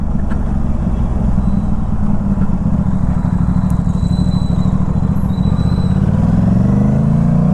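A motorcycle fitted with a GPR Ghost full exhaust system, dB killer installed, rumbles loud and close with a deep, bass-heavy drone that holds steady, then swells as the engine revs near the end.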